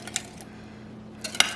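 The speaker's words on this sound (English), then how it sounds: "Just gonna give this a really good stir." Pumpkin mixture being stirred in a bowl for a pumpkin breakfast, heard as a few light clinks and scrapes of utensil against the bowl, one near the start and a sharper pair toward the end, with quiet in between.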